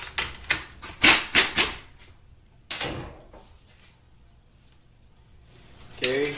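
A 12 mm bolt is being worked loose from the linkage on an AW55-51SN / RE5F22A transmission, heard as rapid metallic ratcheting bursts, close and fairly loud, with a pause between runs. A brief voice is heard near the end.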